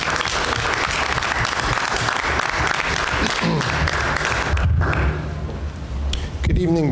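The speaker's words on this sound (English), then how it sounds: "Let's have a round of applause." At a school board of education meeting, a room full of people claps in sustained applause that fades near the end, with a few thumps and voices rising through it.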